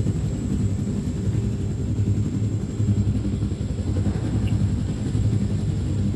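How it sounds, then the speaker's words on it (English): A helicopter in the video game Wolfenstein: The New Order gives off a steady, loud, droning rotor-and-engine rumble that holds evenly throughout without any break. "We got the helicopters."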